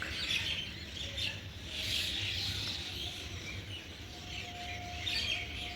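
Birds chirping in the morning, faint, distant twittering calls coming in repeated soft bursts over a quiet outdoor background with no voices.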